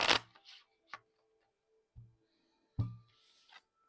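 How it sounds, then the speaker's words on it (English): Tarot cards being shuffled by hand: a burst of riffling and flicking at the start, then several short, soft card taps and slides spaced apart, close and fairly quiet with no voices. "Just shuffle these cards and one more."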